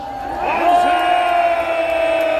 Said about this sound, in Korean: 여러분들은 다시 한번 큰 박수 해주시기 바랍니다